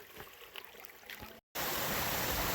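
Water running down a hiking trail on Bolton Mountain like a stream, a steady close rushing trickle with scattered splashes, then after a brief dropout a louder continuous wash.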